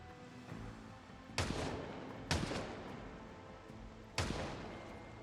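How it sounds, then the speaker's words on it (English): Gunshots fire from a window in Project Zomboid: three sharp, loud single shots spaced about a second apart, each with a short echoing tail over quiet ambient background. "You can open the window and shoot out of it"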